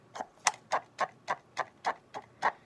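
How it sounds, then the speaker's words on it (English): A cup-and-string squeaky chicken toy worked with a wet paper towel gives about nine quick, evenly spaced squawking clucks, close and fairly loud, with nobody talking. "And there we have a squeaky chicken."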